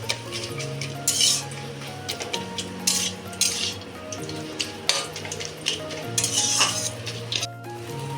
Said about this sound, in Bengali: এবারে আমি এটাকে আরো 10 মিনিটের মতন ভালো করে নাড়াচাড়া করব।